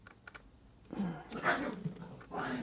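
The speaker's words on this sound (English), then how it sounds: "The dogs." Dogs in a home make restless noises, with soft whines, panting and scrabbling bursts beside faint clicks, moderately close, with no speech.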